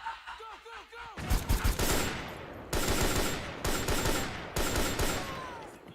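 Bursts of automatic gunfire in Metal Gear Solid 4, rapid dense volleys in several loud stretches, with faint voices underneath at the start.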